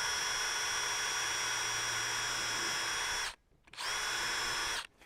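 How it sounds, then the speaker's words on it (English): A power drill whines at a steady high pitch while drilling a pilot hole in wood for a National beehive, cuts off abruptly, then spins up again briefly before stopping, loud and close. "So you want to get a little pilot hole going there."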